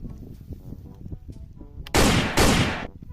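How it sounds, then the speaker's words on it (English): A toy Spider-Man gun fires two loud, harsh bursts of electronic shooting effect near the end, following a stretch of quieter background sound and soft vocal noises. "It's Spider-Man gun."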